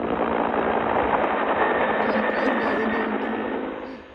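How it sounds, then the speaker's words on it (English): Helicopter rotor and engine noise, a steady dense drone at moderate volume that fades out near the end. "Helicopter."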